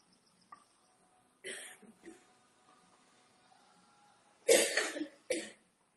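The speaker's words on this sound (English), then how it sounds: "I cough a little bit" A few short asthma coughs close by: one burst early, then two sharper, louder coughs near the end, separated by quiet stretches.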